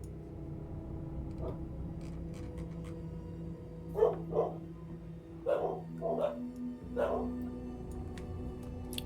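Dogs barking indoors in the distance, a few muffled barks then a cluster of sharper barks in quick pairs, faint over a steady electronic hum.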